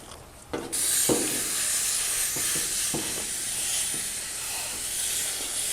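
A garden hose rinses an air conditioner condenser from the top down, giving a steady, close, broad hiss of spraying water, with a few faint knocks near the start.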